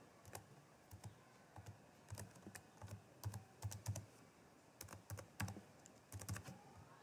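Computer keyboard keys tapped in quick irregular bursts while a password is entered, close and fairly quiet, with short pauses between clusters of clicks and no voices.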